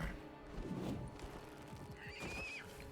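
A horse in an animated show gives a clear, fairly close whinny with rising and falling pitch, set among hoof clip-clops and background scoring at a modest level.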